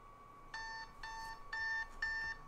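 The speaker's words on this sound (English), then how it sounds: "that's my lunch alarm" A lunch alarm goes off as four evenly spaced bright electronic beeps, each with a ringing tonal chime, clear and close over a quiet background.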